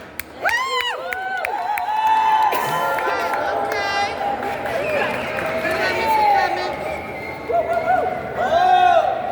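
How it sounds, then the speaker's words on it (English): A crowd at a tax-the-rich press conference at the New York State Capitol cheers and whoops with some scattered clapping, loud and close, as excited voices rise and fall over a continuous murmur. "Let's give him a round of applause."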